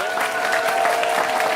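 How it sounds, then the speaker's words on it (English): A short burst of dense audience applause at a 55-plus dating game show, steady and fairly loud throughout with a faint voice in it. "Give some applause for Colin."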